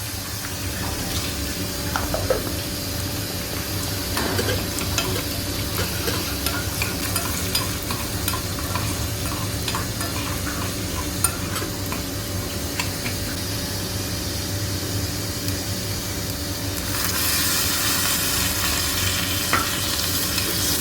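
A tempering of chana dal, urad dal, mustard seeds, dried red chillies and curry leaves sizzles in hot oil, a close, steady crackling hiss with stirring, growing louder near the end, with no talk.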